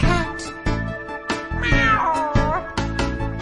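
A cat meows repeatedly in a drawn-out, wavering series of close, clear calls, several separate meows in a row with short pauses between them.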